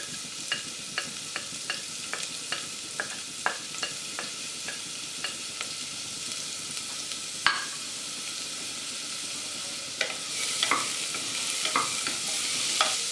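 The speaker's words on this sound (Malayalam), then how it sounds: "ഇനി ഇതിലേക്ക് സവാള ചോപ്പ് ചെയ്തതും കൂടി ചേർത്ത് കൊടുക്കാം." Chopped onion and bay leaf sauté in hot oil for masoor dal curry, a continuous close sizzle punctuated by a regular series of spatula scrapes and stirring clicks.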